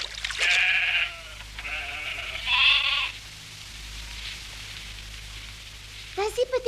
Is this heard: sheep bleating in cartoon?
yes